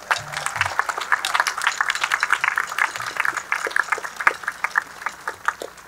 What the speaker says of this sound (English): You can clap for them too, would be nice.